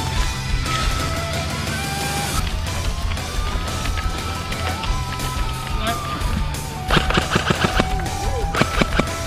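Rapid gunfire rattles in quick bursts over noisy background talk and shouting, fairly loud and close, with sharper cracks clustered toward the end.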